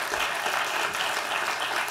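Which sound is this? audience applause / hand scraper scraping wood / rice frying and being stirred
audience applause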